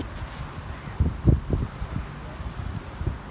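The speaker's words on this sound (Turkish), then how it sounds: "Çanakkale her zamanki gibi rüzgarlı" Gusty wind in Çanakkale rumbles against the microphone, with a few stronger low thumps of buffeting amid a soft, continuous rush.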